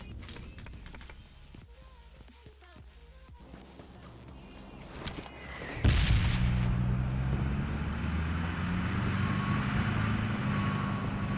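Car engine in the PUBG Lite battle royale game, starting with a sudden loud burst and then a steady close drone of driving, after a quieter stretch of scattered clicks and distant game noises.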